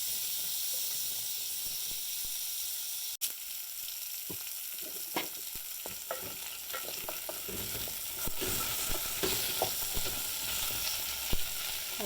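Potatoes sizzle and fry in a pot as the base for leek potato soup, a steady close hiss with scattered crackles and stirring scrapes, one abrupt knock early on, and no talking.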